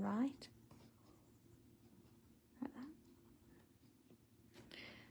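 Pencil scratches softly on a small paper art tile while drawing swirls, faint and close, in a few brief strokes separated by quiet pauses in a still room.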